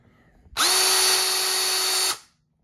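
A cordless drill whirs up sharply, runs at a steady high-pitched whine for about a second and a half, then winds down to silence.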